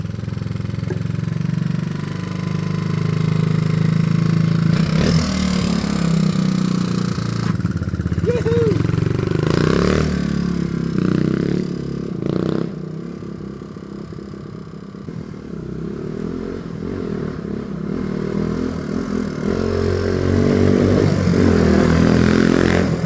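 1983 Yamaha YT200E shaft-drive three-wheeler running nearby, a rough engine drone that rises and falls with throttle blips throughout, with people talking over it.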